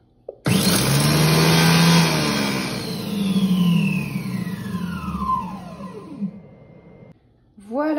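Food processor on turbo setting mixing walnut bread dough, a loud whirring motor that starts abruptly, holds steady, then winds down with falling pitch before a brief clatter at the end.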